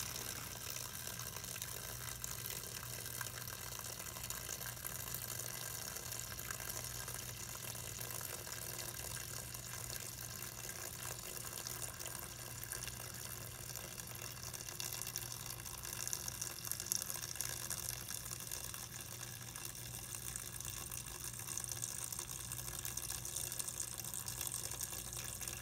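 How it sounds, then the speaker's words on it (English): Tap water runs steadily from a kitchen faucet into a pot of black-eyed peas at the sink, a continuous close hiss and splash lasting the whole stretch with no talking. "Then I add more water to just above the peas"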